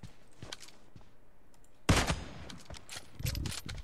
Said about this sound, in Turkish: Uçan atışlar arkadaşlar, uçan atışlar bunlar